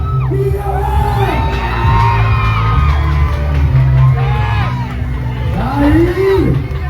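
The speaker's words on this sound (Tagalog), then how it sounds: "Hiyawan!" A loud live crowd cheering and shouting at an event, with whoops, rising yells and excited voices overlapping throughout, plus a few bangs under the clamor.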